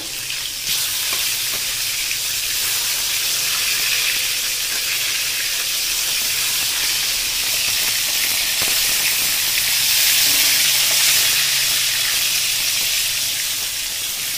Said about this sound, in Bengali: মাছটা একটু ভালো করে ভাজতে হবে।